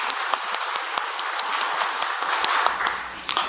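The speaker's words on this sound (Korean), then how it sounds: "우리 지휘자, 반주자, 우리 찬양대에게 한번 한 해 동안 너무 고생했다고 박수 한번 쳐드립시다." A church congregation at a year-end Sunday service applauds the choir, conductor and accompanist, a continuous, even patter of many hands clapping that fades slightly at the end.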